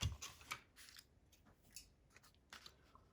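Scissors trim paper for a Valentine's stamped treat slider, giving quiet, close crisp snips and rustles in a few short bursts with no talking.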